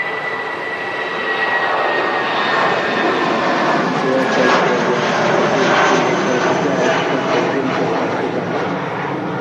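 A British Airways airliner in retro livery departs Manchester Airport bound for London Heathrow, its jet engines roaring loud and steady throughout with a broad, sustained rumble, no voices over it.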